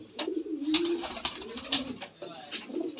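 Pigeons in a breeding loft coo repeatedly in soft, rolling phrases, close by, with a few sharp clicks and rustles scattered between the calls.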